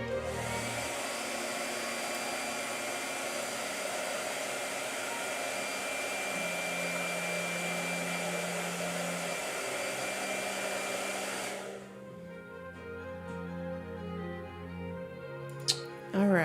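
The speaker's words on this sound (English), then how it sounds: "Blow dry." A hair dryer runs with a steady, loud whirring roar to dry paint, then cuts off around twelve seconds, leaving quieter room noise behind.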